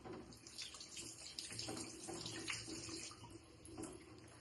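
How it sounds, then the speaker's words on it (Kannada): Tomatoes rinsed under a running kitchen tap, with a faint, steady stream of water splashing continuously and no talking. "ಟೊಮ್ಯಾಟೊನ ವಾಶ್ ಮಾಡ್ಕೊಳ್ಳೋಣ"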